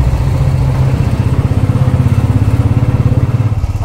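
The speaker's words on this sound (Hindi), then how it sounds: "इतने टाइम बाद बाइक चला रहा है" A motorbike carrying two people on a ride in light rain has an engine running close and loud, with a low pulsing throb that steadies into a regular rhythm.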